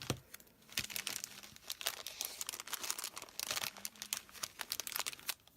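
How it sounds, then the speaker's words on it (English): A small piece of washi tape is handled and torn at close range. Quiet papery crinkles and rustles come in irregular bursts, with a few sharper tearing snaps. "I'm going to use a little piece of washi tape"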